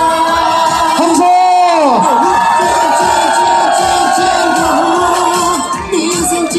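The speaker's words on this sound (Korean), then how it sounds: "함성!" A crowd roars and cheers at an outdoor election rally for a Gangseo district mayoral candidate at Balsan Station, loud sustained shouts and whoops with a chanted rhythm, voices swelling together close by.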